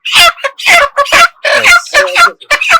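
A chicken on a poultry farm, picked up and held by hand, gives a rapid run of loud, close, harsh clucks and squawks in short bursts.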